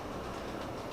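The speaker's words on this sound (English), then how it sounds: "I have the logging train, which is what's going around right now." An On30 scale model logging train runs along its track, a dense, steady rumbling roll heard up close for a short moment without talk.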